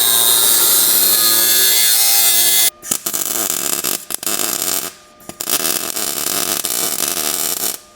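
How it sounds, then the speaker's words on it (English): A cutoff wheel grinds through metal on the firewall of a 1937 Lincoln Zephyr, a loud, close, harsh whine cutting in several long bursts with brief pauses between. "Take this away with the cutoff wheel."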